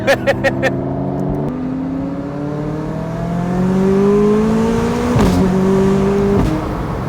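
A McLaren sports car engine revs hard, its exhaust rising in pitch through several climbing pulls, loud and close after a few quick blips at the start.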